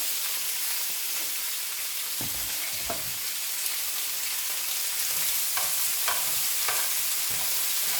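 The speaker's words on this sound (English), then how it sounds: "So my grease is hot. You can hear it sizzling" Loud, continuous sizzling of cabbage frying in hot grease, a dense hiss with occasional soft stirring knocks, close up.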